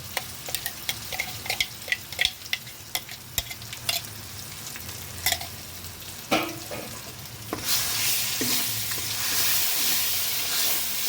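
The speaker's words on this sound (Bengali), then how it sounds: "এটা অনেকক্ষণ ধরে এইভাবে ঠিক কষাতে হবে" Green banana paste being stirred in a wok, first as a series of sharp spoon scrapes and taps against the pan, then a loud, steady sizzling hiss of frying that takes over.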